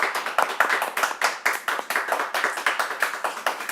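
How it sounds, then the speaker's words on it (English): An audience claps for John's farewell, the sound a dense, steady patter of many hands close by, with individual slaps audible through the wash and no talking. "everyone here would like to give you a round of applause"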